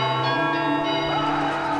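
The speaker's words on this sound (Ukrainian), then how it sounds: "Коли почався Євромайдан, монастирські дзвони били день і ніч." Monastery church bells ring with a sustained, layered metallic tone that hangs steadily throughout, loud and resonant with no talking.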